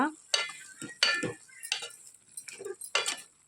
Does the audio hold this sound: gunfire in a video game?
no